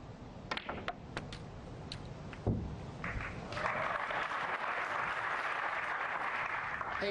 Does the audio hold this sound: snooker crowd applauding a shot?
yes